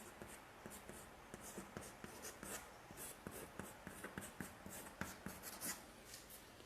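A pen scratches out a handwritten math solution on paper in quick, irregular strokes and taps that continue steadily, quiet and close, with no talking over it.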